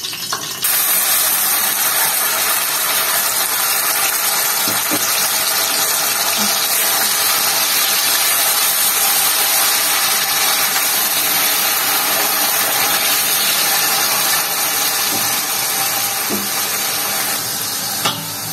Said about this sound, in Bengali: এবার এটা তেলে দিয়ে দেব।